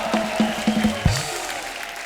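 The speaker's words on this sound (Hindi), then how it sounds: "जोरदार तालियां संगीता जी के लिए हो जाए।" An audience applauds Sangeeta Bijlani in a short, dense burst of clapping, with scattered louder claps over a steady wash and a low musical tone underneath, close and moderately loud.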